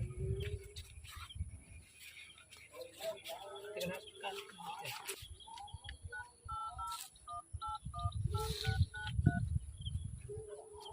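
Telephone keypad tones beep in a short rapid sequence of dialed digits in a village setting, with people talking and background noise around them.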